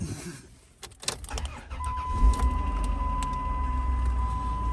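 A van engine with a misfiring cylinder and EGR valve trouble cranks and catches after a few clicks and rattles, then settles into a steady, close, rumbling run with a faint whine.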